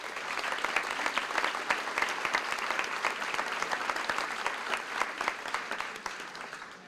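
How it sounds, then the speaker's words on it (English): Steady applause from an audience standing at an elementary school closing ceremony, a dense even patter of many hands clapping, moderately distant and continuous throughout. "please give them a round of applause."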